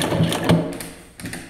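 Electronic flat-bed triple-feed single-needle sewing machine with jumbo hook, its presser foot lifting with a few short close mechanical clicks and whirs.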